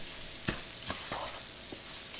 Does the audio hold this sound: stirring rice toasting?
yes